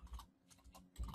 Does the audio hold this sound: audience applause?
no